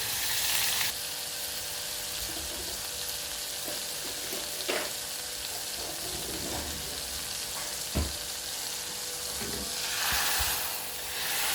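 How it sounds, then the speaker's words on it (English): Butter melting and browning in a pan for a roux, a steady close sizzle and fry hiss running throughout, with a few soft utensil stirs and scrapes against the pan. "I'm letting the butter brown a bit because it's a brown sauce"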